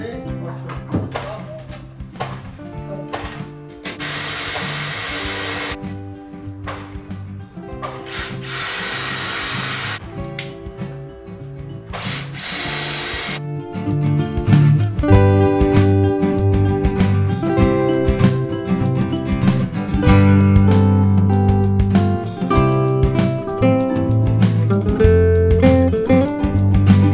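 A power drill with a 6.5 mm masonry bit bores holes for anchor screws while a wooden door is being built. Several loud whining bursts come first, then a longer sustained grinding run, all close and prominent.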